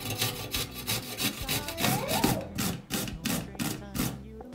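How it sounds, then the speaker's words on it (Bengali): Cucumbers and carrots rubbed across a hand grater, giving a rapid, rhythmic series of close, rasping scrapes with a brief voice murmur partway through. "শসা গাজরগুলো গ্রেটার দিয়ে গ্রেট করে ফেলবো।"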